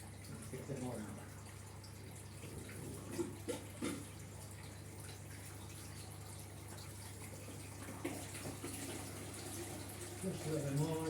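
Water trickles and gurgles faintly as it is siphoned out of an aquarium through a tube during a partial water change, a soft continuous flow under a low steady hum.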